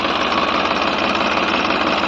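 Massey Ferguson 245 DI 2018 model tractor diesel engine running in a farm field, a loud, steady close-up rumble and clatter without pauses or talk.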